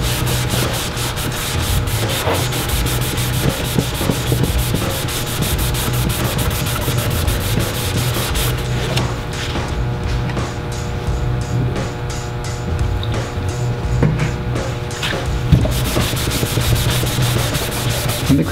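Krink graffiti marker ink being rubbed off a plastic surface during a buff test, a steady, close scrubbing friction that carries on without pause and eases slightly in the middle stretch.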